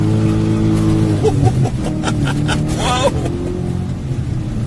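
A BMW 650i with a manual clutch revs hard under acceleration, its engine roaring loud and close with rising, wavering pitch, while a man exclaims over it.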